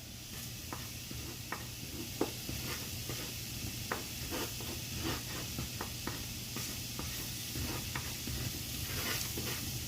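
Vegan cauliflower fried rice being stirred in a hot pan, a steady sizzle of frying with repeated scraping strokes of the utensil throughout, close and without talk.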